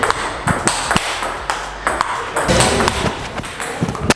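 Ping-pong ball cracks back and forth in a quick table tennis rally with a 17-year-old national team player, sharp bright pings coming every half second or so over faint background voices.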